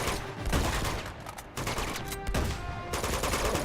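Sustained video game gunfire in Uncharted 2, rapid overlapping shots and bursts forming a dense, continuous fusillade with brief dips in intensity.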